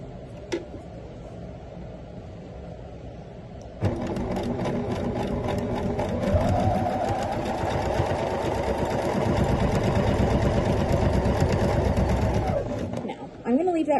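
A sewing machine runs steadily for several seconds, stitching quilt block pieces for a Giant Posy block, its close, continuous mechanical whir starting abruptly and stopping near the end, with a person talking at times.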